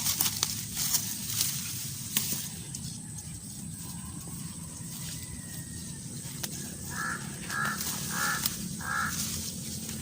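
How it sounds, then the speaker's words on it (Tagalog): Four short caws from a crow in quick succession, moderately distant, over rustling background noise. "May uwak."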